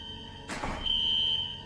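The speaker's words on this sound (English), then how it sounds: "I think the fire alarm is going off in your room." A fire alarm goes off in a hotel room, a steady high electronic tone that starts after a brief noisy burst and holds loud and close for the rest of the short stretch.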